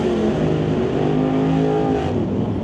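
Drag race launch between a 1966 Mustang and a Chevrolet Malibu, loud steady engine roar with rising harmonic tones as the cars pull away, continuous and close, no talk.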